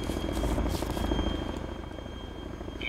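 Chinook helicopter lifting off in the video game ARMA 2, its steady, loud rotor thump and engine drone filling the scene from start to finish, easing slightly toward the end.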